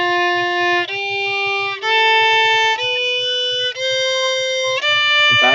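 A Dorian minor scale played on strings, six clear sustained notes stepping one after another, each ringing evenly and alone with a soft low hum beneath.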